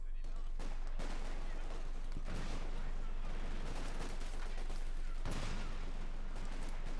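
Gunfire crackles in a Company of Heroes 2 match as a British sniper is killed. Rapid bursts of shots and heavy reports sit over a constant low hum, with a commentator talking through them.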